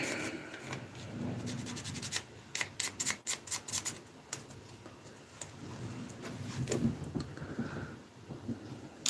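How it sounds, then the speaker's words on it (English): Quiet scratchy rubbing strokes of a sanding stick in short rapid bursts on a small plastic scale model part, up close, with a soft background hum. "Sanding stick."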